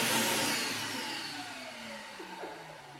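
A vacuum cleaner fitted with a dry bag runs with a steady, close whirring roar that slowly eases in pitch and loudness, with no voices over it.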